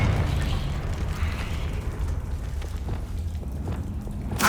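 Confringo blasting spell explosions in Hogwarts Legacy, a continuous low rumbling roar of fiery blasts with crackling bursts and a sharp pop near the end.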